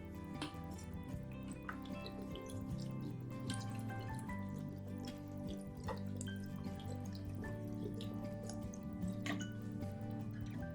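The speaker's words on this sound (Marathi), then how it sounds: "आणि ह्यावर ना आपल्याला एकदम गार पाणी ओतायचंय." Cold water poured over freshly boiled spinach leaves in a kitchen, running and dripping with a soft continuous splash and a few wet trickles, fairly faint and heard alone.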